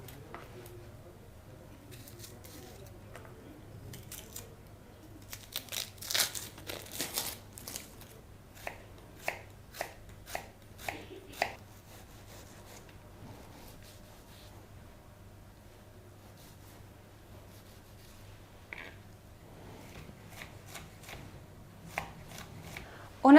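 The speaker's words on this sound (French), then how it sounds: "On épluche et on cisèle finement l'échalote." A knife finely minces a peeled shallot on a board. Quick bursts of light rapid taps alternate with single sharper chops and pauses, close but fairly soft over a low steady hum.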